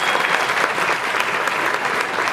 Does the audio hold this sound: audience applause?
yes